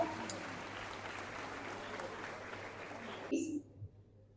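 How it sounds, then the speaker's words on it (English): Audience applause for a football team at a school felicitation ceremony: steady, dense clapping that fills the room and then cuts off abruptly near the end, followed by a few faint stray sounds. "Please give them a big round of applause."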